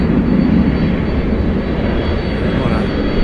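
A brand new Boeing 767 jet at DFW Airport roars loud and steady at close range, a dense broadband engine rumble that holds without a break throughout.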